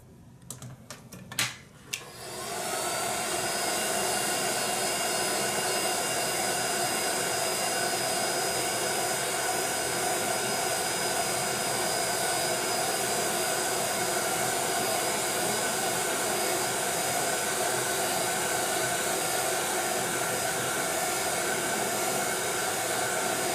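A hair dryer blows steadily on a freshly painted leaf, a loud, constant whirring rush that switches on after a few clicks and runs unbroken for over twenty seconds.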